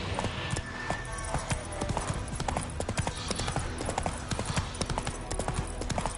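Roach the horse gallops in The Witcher, a steady rapid clip-clop of hooves running continuously under busy game ambience, loud and close throughout.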